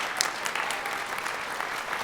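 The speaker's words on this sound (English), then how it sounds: "So please give them a huge round of applause." Steady applause from a comic con panel audience, a dense even wash of clapping that holds at a moderate level without a break.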